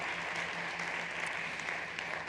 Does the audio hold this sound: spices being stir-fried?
no